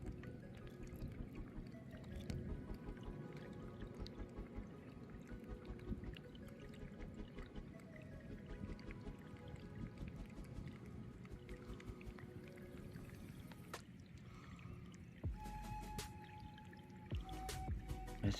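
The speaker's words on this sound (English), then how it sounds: "Got a little bit of flowing water here. I'm gonna clean this off a little bit." A small stream of flowing water rinses an arrowhead outdoors, a faint steady trickle and splashing close by, with occasional drips and handling sounds, no talking.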